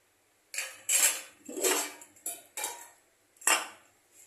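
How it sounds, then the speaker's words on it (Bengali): A metal spoon scrapes and knocks around a pan while cumin powder is stirred into a cauliflower and fish curry, five or six distinct close strokes separated by brief pauses, with no talking. "এটাকে একটু ভালো করে নেড়ে দেব।"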